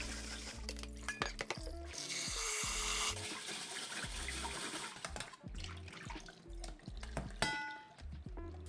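Rice is rinsed in water in a home kitchen for a Japanese autumn dinner, with sloshing, swirling water and light clinks against the bowl, close and continuous with a brief steadier pour.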